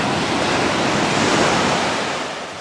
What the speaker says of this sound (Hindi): हाँ, बहुत ही ज्यादा स्ट्रॉन्ग वेव्स है और सैंड भी जाता है वापस।